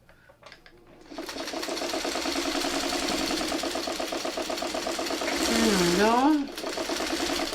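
A sewing machine stitches quilt fabric in a steady, fast rhythmic run that starts after a second and holds to the end, with a brief rise in pitch near the end; a voice speaks briefly at the start.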